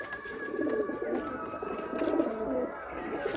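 Pigeons of the black-line variety coo steadily in a loft, several low soft calls overlapping close by with faint background clatter.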